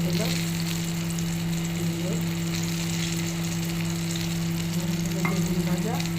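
Eggplant slices (begun bhaja) sizzle steadily in oil in a pan, a constant close crackle with faint stirring scrapes and a low hum underneath.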